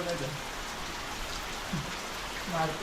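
Steady rain falls on a rural Konkan homestead, a dense continuous patter with a few brief voices faintly heard over it.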